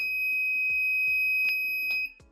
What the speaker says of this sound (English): I can also press this button to reset the buzzer.